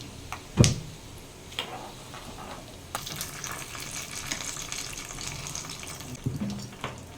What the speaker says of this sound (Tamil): நெய்யில் வறுத்து எல்லாத்தையும் கொட்டிட்டோம் இனி ஒன்றா கிண்டி விட்டுக்கலாம்